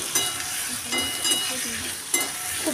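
Two large chopped onions frying in oil in a pan for a Bengali bata fish curry, a steady close sizzle broken by occasional scrapes and stirring knocks, with no talk.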